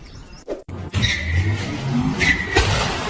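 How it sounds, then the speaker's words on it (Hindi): A car launches hard toward a glass door. A brief thump comes first, then a loud, close engine roar with squealing tyres builds and holds for a few seconds. "ये कार निकली और ठोक दिया इसने अच्छे खासे शीशे के दरवाजे को"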